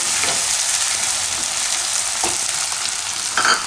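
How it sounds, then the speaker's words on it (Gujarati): Garlic and ginger sizzle steadily in hot oil, with a few scraping stirs from a spoon in the pan, close and continuous with no voices. "થોડીક વાર તેલમાં ફેરવી દેવાનું"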